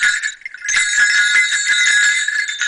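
An old Himalayan animal bell, uncracked and in good condition, shaken close and loud so it gives a bright, continuous jingling ring with quick rattling strikes, alone without talk.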